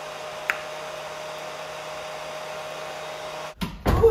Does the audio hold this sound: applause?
no